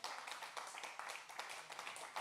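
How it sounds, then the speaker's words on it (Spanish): Church congregation clapping for the Lord during a Spanish-language worship service, a steady dense patter of many hands sustained throughout at moderate loudness. "Dale un aplauso al Señor."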